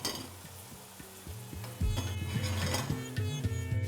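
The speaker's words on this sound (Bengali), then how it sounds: "এবার দেখুন পেঁয়াজটা এখন পারফেক্টলি কুক হচ্ছে।" Onions cook in a pan with a crackling sizzle while a pan is moved around, giving rhythmic clanks and knocks, with the sound growing louder partway through and no speech.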